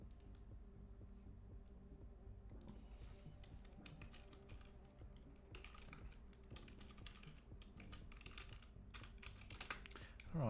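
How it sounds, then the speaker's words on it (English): Rapid typing on a computer keyboard during a livestream, a steady run of close clicks and taps in irregular bursts, quiet and alone with no voices. "I don't know why I keep typing that incorrectly."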